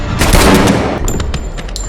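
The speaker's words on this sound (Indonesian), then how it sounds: "Tembakan tadi berhasil melukai perut Ferik" Gunfire in an action film, a rapid volley of loud, sharp shots and booms in quick succession, close and dominant with no talk.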